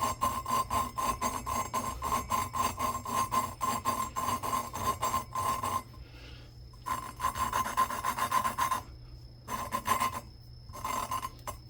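Gritty rasping scrapes of lapping an EZGO golf cart engine valve rub back and forth in a quick, steady rhythm, pausing briefly twice before resuming, close and fairly loud.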